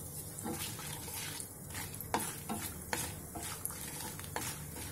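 Whole red chillies and asafoetida frying in a pan, a steady sizzle broken by regular scraping strokes and light clinks of a utensil against the pan.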